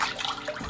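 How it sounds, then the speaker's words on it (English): Two cups of water pour into a pot for kimchi porridge, a short, steady splashing stream that is close and clear, with no voices. "To make the porridge, you want to add 2 cups of water."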